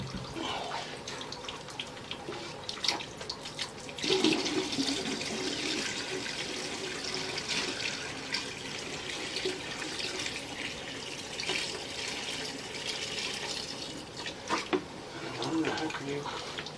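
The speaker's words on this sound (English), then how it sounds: "I'm going to pause this real quick and pour some water down there." Water poured down a residential drain line runs and trickles steadily for the whole stretch, with a few louder splashes and faint voices in the background.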